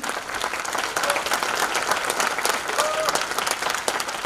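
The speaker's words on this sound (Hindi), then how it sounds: "तो एक जोरदार तालियां चाहूंगे" Enthusiastic applause from a seated audience at a business lifestyle seminar, a loud, dense, continuous clapping that stays steady for the full few seconds.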